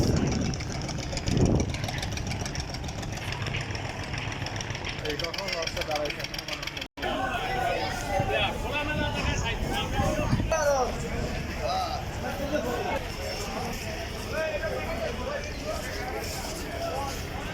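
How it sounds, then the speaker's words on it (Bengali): Ferry launch engines rumble and knock at the crowded Sadarghat launch terminal in Bangladesh, a continuous mid-pitched drone amid busy ambient noise and people talking nearby. "আমরা চলে আসছি সদরঘাট, বাংলাদেশের বিখ্যাত লঞ্চ ঘাট। সেখানে শত শত লঞ্চ।"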